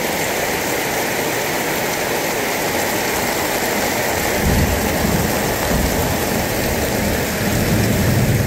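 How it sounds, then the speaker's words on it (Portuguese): Heavy rain pours down steadily and loudly, with thunder rumbling in strongly partway through and rolling on beneath the downpour. "aqui a chuva é demais, os bidões já estão todos cheios, está a verter também"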